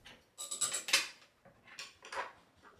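Screws being fastened into office chair armrests, two short bursts of quick metallic ratcheting clicks, close and fairly quiet, with a pause between them.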